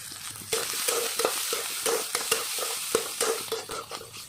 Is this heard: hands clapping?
no